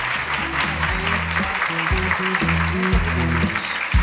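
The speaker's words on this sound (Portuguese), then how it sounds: "eu peço mais uma vez uma salva de palmas para a professora Lucelena" An audience at a talk applauds a guest professor, steady clapping from many hands under music playing with a low, rhythmic bass line.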